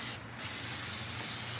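Chalk paint sprayed onto a small table, a continuous close hiss with a brief break near the start, no voices.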